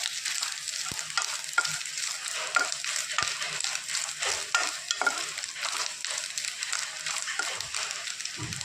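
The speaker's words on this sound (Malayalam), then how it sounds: "ഫ്രൈയായി വരുന്നവരെ ഒന്ന് ഇളക്കി കൊടുക്കാം തേങ്ങയൊക്കെ ആയി വരാൻ തുടങ്ങിയിട്ടുണ്ട്" Grated coconut frying in a pan while being stirred, a continuous close sizzle broken by repeated scraping strokes of a spoon, with no talking.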